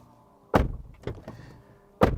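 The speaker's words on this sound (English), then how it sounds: "this is what the door sounds like" Door of a 2024 RAM 1500 pickup truck shutting with heavy, solid thunks, one loud close followed by a couple of softer knocks and a second firm slam, near and clear with no talking.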